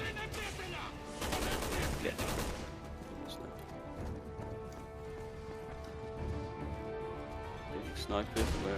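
Sniper fire in Resident Evil 6 cracks out as several sharp shots over a dense game soundtrack. Someone talks over the gunfire.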